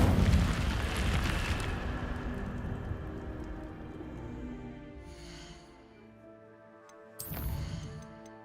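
A fiery Incendio spell blast in a video game, a loud roaring burst that fades over several seconds, followed by a sharp second flare near the end.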